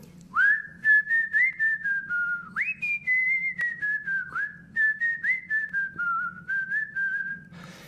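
A clear, close whistled melody of short rhythmic phrases, sliding between notes, over a quiet low hum.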